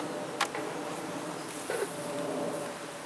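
Honey bees hum around an open hive during a gloveless inspection, a faint steady broadband buzz with a few individual bees zipping close by, no voices.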